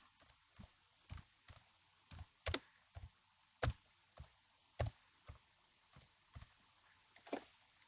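A computer mouse gives a string of sharp, isolated clicks, about a dozen spaced roughly half a second apart, close and quiet against a silent background.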